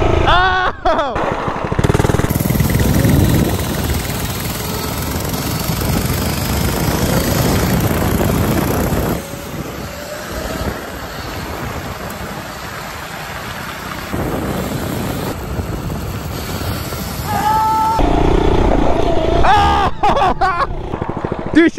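An FRP mini bike engine runs on the street, loud and close, holding a rough, buzzing drone with rises and dips in revs for about twenty seconds.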